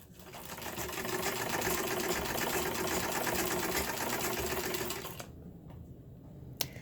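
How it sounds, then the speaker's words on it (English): A sewing machine stitching thread into paper runs in a steady, fast mechanical whir for about five seconds, then stops, leaving a quiet pause and a single sharp click near the end. "you move your sewing wheel using your hands, stitch by stitch, stitch by stitch"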